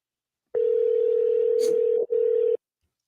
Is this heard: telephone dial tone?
yes